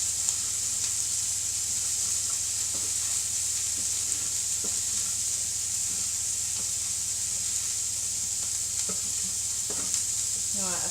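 Chicken frying in a pan while being gently stirred, a continuous close sizzle broken by soft scraping and clicking stirs at irregular intervals.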